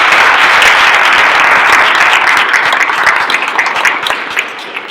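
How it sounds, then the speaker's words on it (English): An audience at a Delaware Gardens neighborhood initiative event gives a big round of applause in a room, a loud dense burst of clapping that gradually thins and fades. "how about a big round of applause for everybody in this room"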